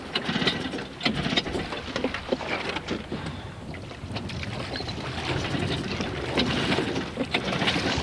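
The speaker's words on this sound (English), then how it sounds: "I'll keep trying the motor." An outboard motor on a small boat is cranked over and over in a storm, its rough sputtering mixed with steady wind and water noise, fairly loud and continuous throughout.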